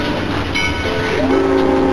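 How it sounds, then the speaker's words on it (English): A train rumbles past with steady rolling noise and a whistle tone rising through it, loud and continuous, from the soundtrack of the 1922 film The Blacksmith. "Or the train was going to catch Buster."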